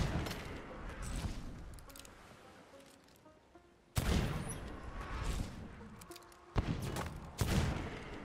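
Bursts of gunfire in the pirate video game Sea of Thieves as phantoms are shot, with loud clustered volleys separated by quieter gaps and a few sharp single blasts.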